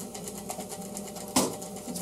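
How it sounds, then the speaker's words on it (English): Fly cutter spinning at roughly 1000 RPM on a MAXNC mini mill, a steady close mechanical whir with faint periodic ticks and one sharp louder hit near the end, with no talk over it. "We are pushing a fly cutter across."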